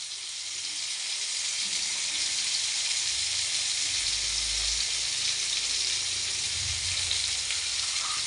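Pieces of jalla fish frying in a pan as they are turned over, a steady, loud, dense sizzle with low bubbling that continues evenly throughout.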